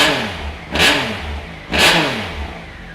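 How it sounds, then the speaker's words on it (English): A 2018 Triumph Speed Triple RS motorcycle engine, fitted with an Ohlins rear shock, runs loud and close, blipped through two sharp throttle revs about a second apart, each dropping back to a throbbing idle. "We'll give it a start."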